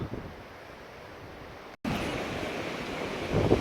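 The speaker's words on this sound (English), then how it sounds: "considering the wind's seriously gusty" Gusty, gale-force wind buffeting an outdoor microphone, a loud, continuous broadband roar that cuts out for an instant and then surges again, with no talking.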